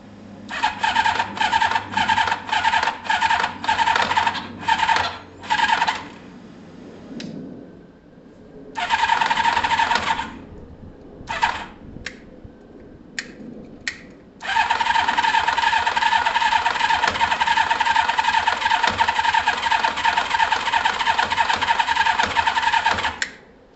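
A 1980s Kawasaki ZL600 Eliminator motorcycle is cranked in a start-up attempt, its starter whining loudly in repeated short bursts, then a pause with a few brief stabs, then one long sustained crank.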